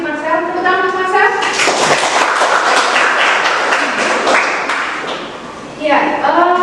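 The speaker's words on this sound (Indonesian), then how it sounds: "Tepuk tangan untuk Marcel" A small class gives applause after a student's presentation in an online lecture session, a burst of scattered clapping in the middle that swells and fades, with a voice talking before and after it.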